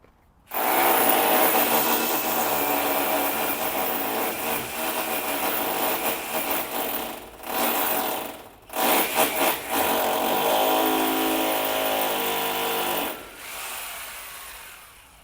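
An electric drill boring holes into a wall for size-eight anchors while fitting decorative plaster cornice molding, whirring in long, close bursts separated by brief pauses.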